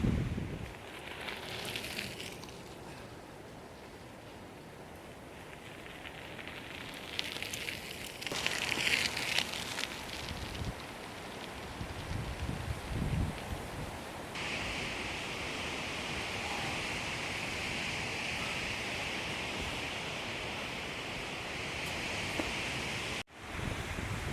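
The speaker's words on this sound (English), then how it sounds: "the wind comes on and off and it is really strong" Strong, gusty wind in the Cairngorms, roaring steadily and swelling and easing in waves, with a harsher broadband blast in the middle and a brief drop near the end.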